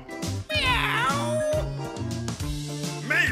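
A parrot imitating a cat's meow, two drawn-out, rising and falling meow-like calls, close and loud, set against background music.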